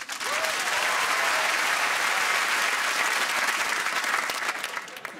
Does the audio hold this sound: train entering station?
no